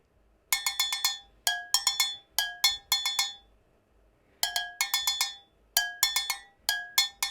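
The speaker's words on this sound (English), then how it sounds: "here's what that agogo sounds like by itself" Bright metallic agogo bell tones ring out in a repeating syncopated pattern of high and low strikes, each hit ringing briefly, played alone and close.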